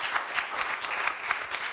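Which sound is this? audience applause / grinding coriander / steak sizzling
audience applause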